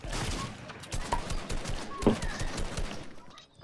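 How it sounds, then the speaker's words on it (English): Gunfire in the video game Fortnite comes as a quick string of close, sharp shots. A player's voice is heard over the game noise. "Somebody shooting me."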